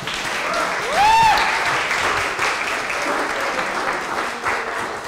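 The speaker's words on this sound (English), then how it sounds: "Please make sure that we give her a round of applause today." A round of applause at a San Diego and San Jose community event honoring an advocate; dense, continuous clapping from a crowd, loud and steady for several seconds.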